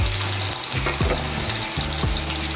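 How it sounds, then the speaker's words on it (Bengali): Hilsa fish heads fry in hot mustard oil, giving a steady loud sizzle with harmonic hum-like tones and occasional scraping knocks, no talking. "সর্ষের তেলটা গরম হয়ে গেছে এতে আমি এবার ইলিশ মাছের মাথাগুলো ভেজে নেব"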